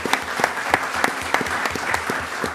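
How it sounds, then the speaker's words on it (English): Applause at a commissioners court meeting after honoring a local family: a steady wash of many hands clapping with sharp recurring claps standing out, close and fairly loud, with no talking. "Let's all give the Robinson family and the legacy of Mr. Robinson a round of applause."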